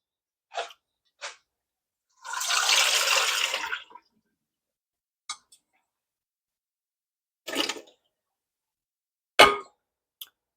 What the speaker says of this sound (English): I'm going to drain the water off of my potatoes and add them in.